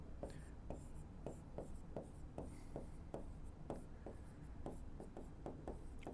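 Marker or chalk writing on a board, a regular series of short taps and strokes at close range against a low steady room hum, with no talk over it.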